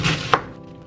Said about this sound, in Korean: 양배추도 네모나게 한입 크기로